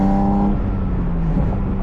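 A Porsche 718 Spyder RS with a 500-horsepower naturally aspirated engine, revving toward 9,000 rpm, holds a loud, steady engine tone close by whose pitch bends and shifts as it climbs, with no voices.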